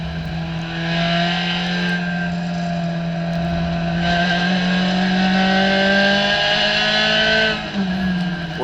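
A COMMA SRF3 race car at Hallett Motor Racing Circuit drones loudly in-car, its engine note climbing steadily through a gear, with a brief dip near the end, no voices.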